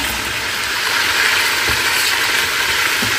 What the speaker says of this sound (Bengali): রোস্টগুলো হালকা করে ভেজে নিব, বেশি না